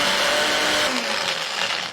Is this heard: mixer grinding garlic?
yes